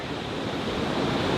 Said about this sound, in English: it opens up and we're at a new beach